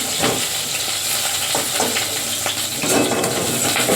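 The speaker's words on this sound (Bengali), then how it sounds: "পটলগুলো অল্প অল্প করে দিয়ে ভেজে নিলাম" Pointed gourd (potol) pieces fry in a hot pan with steady, dense sizzling throughout, broken by occasional stirring scrapes and clinks; no talking.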